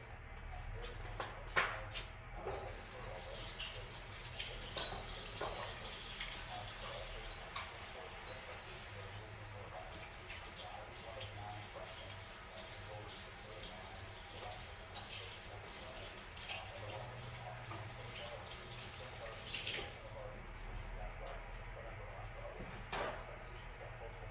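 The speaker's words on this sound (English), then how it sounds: "I need to wash my hands." Running tap water at a kitchen sink while hands are washed during cheeseburger casserole cooking, a steady low wash with faint clinks and rustles, fairly quiet and close.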